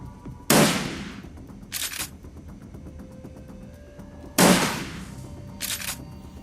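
Two loud gunshot reports from a sniper rifle in the Shadowrun Dragonfall video game, each a sharp blast with a ringing decay followed about a second later by a shorter mechanical crack, spaced nearly four seconds apart over low background hum.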